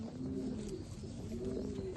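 A racing pigeon held in the hand coos softly and steadily, a low murmuring coo repeating close by over a constant background hum.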